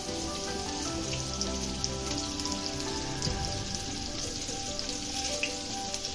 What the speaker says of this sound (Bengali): এপিট ওপিট একটু ভাজা হলে এটা নামিয়ে রাখবো।